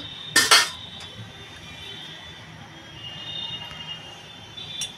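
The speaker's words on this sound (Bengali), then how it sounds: "কড়াইটা আমি বসিয়ে দিয়েছি," A brief metallic clank as a wok is set down on a stove, followed by a quiet, steady background hum.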